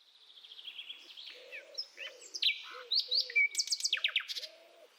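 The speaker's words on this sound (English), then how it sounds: "We hear birds in the trees" Birds sing in trees, a series of bright chirps and quick trilled phrases coming in short bursts, clear and fairly close against a quiet background.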